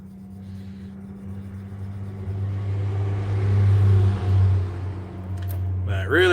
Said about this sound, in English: I do not like listening to them trucks all damn day.